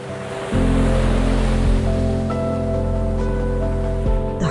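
Steady ocean surf rolling and washing, a continuous broadband wash of waves with a low sustained rumble, fairly close and loud, with no voices.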